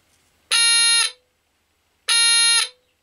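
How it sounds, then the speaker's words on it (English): A Polish RS-70 radiation detector's buzzer gives two loud, harsh electronic buzzes, each about half a second long, separated by a pause of silence. "that toggles between a light and a buzzer. So you definitely hear that if you're being irradiated."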